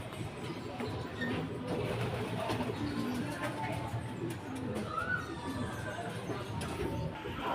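A racing pigeon named Velvet arrives at the loft during a race lap, with soft cooing and bird calls at moderate distance over a low outdoor hum, while people talk intermittently nearby.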